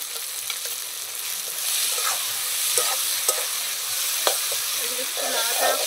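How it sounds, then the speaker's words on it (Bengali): Ground cumin and coriander with ginger-garlic paste frying in a pan, stirred with a spoon: loud continuous sizzle with scattered scrapes and knocks of the utensil against the pan. "এগুলো একটু নাড়াচাড়া করে নিই।"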